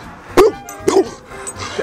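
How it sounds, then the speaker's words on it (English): A dog gives two short, sharp barks close by, with a few faint yips or whimpers in between indoors. "No more barks?"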